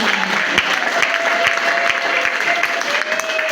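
Sustained, lively applause from a gathered audience at a Fête des Cœurs celebration in a religious community's African delegation, a dense, even crackle of many hands clapping together, loud and steady throughout.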